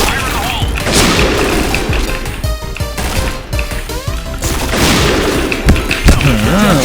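Heavy gunfire rattles through a shooting video game in dense, overlapping bursts and booms, loud and continuous over the whole stretch.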